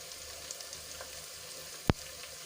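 Whole spices and powdered masala, including garam masala, coriander-cumin powder and salt, sauté in a pan for Gujarati dal dhokli: a steady, even sizzle with one sharp clack near the end.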